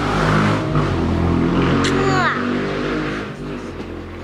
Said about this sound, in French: c'est une moto, hein, il fait que passer